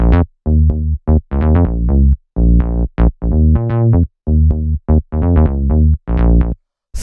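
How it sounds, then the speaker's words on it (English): A minimal deep tech synth bass line plays alone, chopped into short, punchy, rhythmic notes that move through a simple chord progression, loud and dry with brief gaps between the phrases. "Then as you can hear, we have the bass line, which sounds like this."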